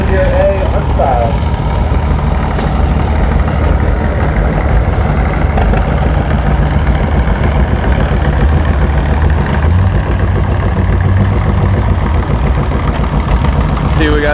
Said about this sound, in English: Up next, we should have Jason Pasha on John Deere A Unstyled